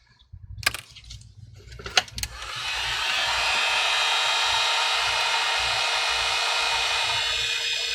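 Heat tool warming the screen adhesive on an iPhone 13 during a screen replacement: a few small clicks and taps, then a steady close airy blowing hiss that starts around three seconds and holds to the end.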